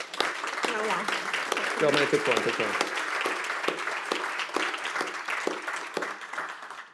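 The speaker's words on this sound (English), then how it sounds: "Now I think a round of applause for the panelists." A panel discussion audience applauds the panelists at a regenerative agriculture event, steady clapping filling the room with a brief voice speaking over it midway.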